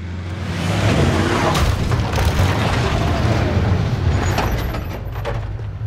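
An airstrike explodes in Call of Duty: Warzone on the Caldera map, with a deep, heavy booming rumble that swells and holds loud and close for several seconds before easing slightly, with no talk over it.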